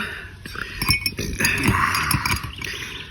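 Ice cubes clink against a glass, a close cluster of bright, quick knocks and rattles over about three seconds with no talking.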